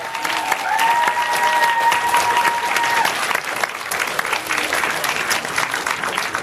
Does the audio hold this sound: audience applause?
yes